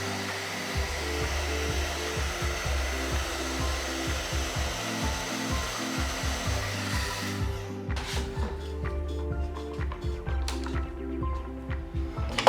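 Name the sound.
hair dryer heating glue on snowboard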